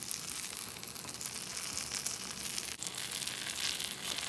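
A bagel half frying in melting butter in a pan on a backpacking stove. The close sizzle is steady and crackly and carries on unbroken, with no one talking.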